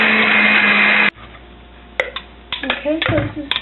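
A blender purees a mixture containing amaretto and vanilla, running loud and steady for about a second before cutting off, followed by quieter clinks and handling sounds with a voice talking.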